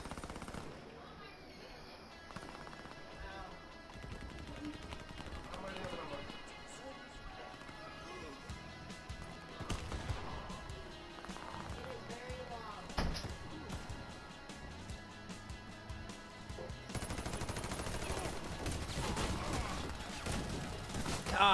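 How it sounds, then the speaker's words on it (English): Bullets strike a wall behind the player in the shooter game Warface, a dense continuous patter of rapid gunfire impacts and shots filling the scene with bursts growing louder toward the end. "There's so much bullets hitting the wall behind me."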